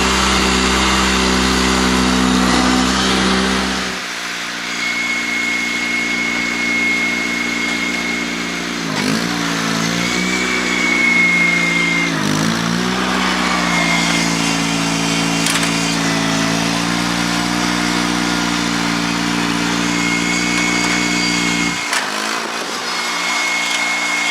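A Honda 3813 lawn tractor engine runs steadily and loud nearby, a droning mid-pitched hum that dips and recovers a few times as load or throttle changes, with no talking.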